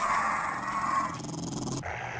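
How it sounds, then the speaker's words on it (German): A dog growling in the video game 7 Days to Die, a low snarling rumble heard fairly close, breaking off into a brief yelping whine as game sounds shift abruptly near the end. "Hundi auch noch."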